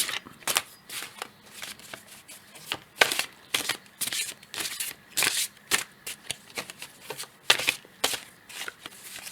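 Tarot cards shuffled by hand, a rapid run of crisp riffling and slapping bursts repeated at an uneven rhythm, close and fairly loud, with no talk.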